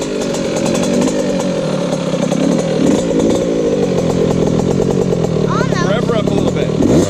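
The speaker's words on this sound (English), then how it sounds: "Rev her up a little bit." A Yamaha YZ65 dirt bike with an FMF Turbinecore 2 spark arrestor exhaust revs loudly and continuously nearby, its raspy two-stroke buzz steady through the clip.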